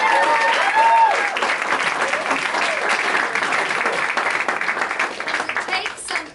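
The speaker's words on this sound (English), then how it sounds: "let's give them a big round of applause" An audience applauds at a motivational talk, with dense clapping that starts strong, a brief whoop rising over it early on, then continues steadily before tapering off at the end.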